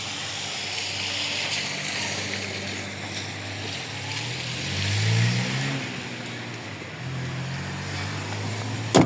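A Chevrolet Spark's engine idles steadily nearby at a car market in Andijon, a continuous low hum with a slight swell midway and no talking over it.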